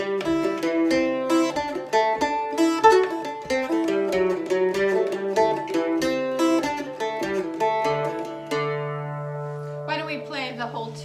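A melody on a stringed instrument with paired strings, played alone as a run of bright plucked notes at a steady pace, ending with a low sustained drone note.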